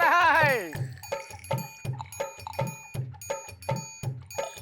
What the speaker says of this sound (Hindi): नल में पानी टपक रहा है?